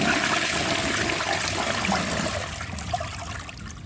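A Duravit Starck 3 toilet flushes with a dish towel in the bowl, a steady loud rush of water that eases into a trickling drain toward the end.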